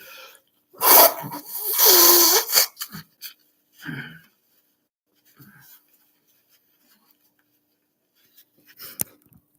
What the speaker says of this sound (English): there must be some dust here because I always sneeze